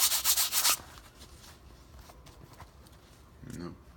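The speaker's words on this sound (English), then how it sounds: "Start scrubbing it off." Cleaning product is scrubbed into a shoe in a burst of rapid rhythmic brush strokes up close, followed by fainter intermittent rubbing.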